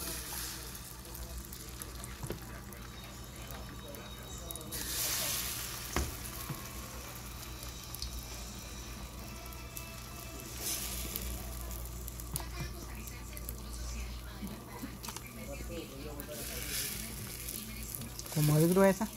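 Batter of spinach, potato and cheese poured into a pan of hot oil, sizzling and frying steadily throughout with occasional stirring and scraping, a louder burst of spitting near the end.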